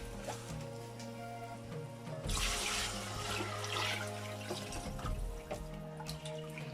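About 2.1 liters of water poured into a pot of jollof rice cooking on high heat, a loud gushing splash that starts after a couple of seconds and continues, with no talking.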